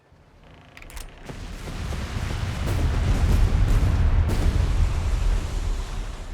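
Naval ship bombardment in Company of Heroes 3, heavy shell impacts building into a sustained loud rumbling barrage with scattered sharp blasts, low roar swelling and holding steady.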